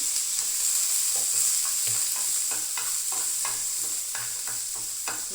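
Garlic and ginger frying in hot oil, a constant close sizzle with a series of soft scraping stirs and taps of a utensil against the pan, with no talking.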